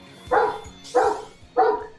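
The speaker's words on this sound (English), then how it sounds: "Whose dog? No, that's my dog." A dog barks three times in a row at a fairly even pace, each bark loud and close, with short quiet gaps between them.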